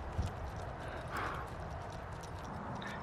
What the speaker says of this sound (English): you're absorbing the horse's motion at the trot